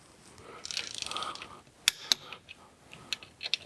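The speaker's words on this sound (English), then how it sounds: "Now we're going to do the same thing with the torque wrench." A torque wrench tightening 10 mm bolts during a Kwik Performance K10675 Wide Mini installation, giving a quiet close ratcheting rasp followed by several sharp metallic clicks.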